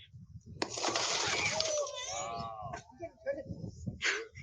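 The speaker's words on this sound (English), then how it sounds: "So she's breaking the window in the corner." Car window glass shattering after a rescue escape tool strike, a sudden bright crash with scattering fragments, followed by a wailing, siren-like tone and scattered knocks and clatter.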